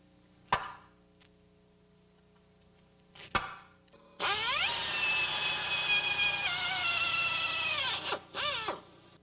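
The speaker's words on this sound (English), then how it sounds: "use a 3/16 diameter drill bit to drill through the rivets" A power drill with a 3/16-inch bit drills through rivets on a car's control arm, whining steadily for about four seconds, then sputtering to a stop, preceded by two sharp metallic clicks.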